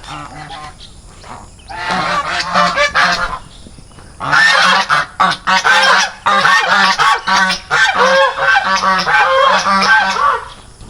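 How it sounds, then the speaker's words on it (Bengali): Geese at the Aaraf Dragon Fruit Resort in Manabari, in the Dooars of North Bengal, honk loudly and close by in a dense, repeated chorus of overlapping calls that continues throughout, with no talking. "এখানে রাজহাঁস রয়েছে।"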